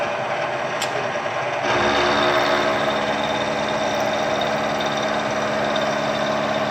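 A Bridgeport milling machine runs at about 1000 RPM taking a 0.020-inch cut, a steady mechanical hum and whine whose cutting noise thickens after a couple of seconds and then holds constant, close by, with no talk.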